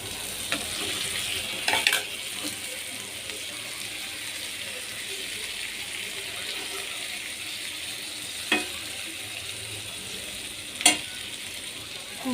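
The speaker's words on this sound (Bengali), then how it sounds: "এরকম তেলের উপরে ভাজা ভাজা করবো মাছগুলা" Fish fry in oil with tomato in a home kitchen. A steady, even sizzle carries on throughout, broken by a few sharp clicks and taps of a utensil.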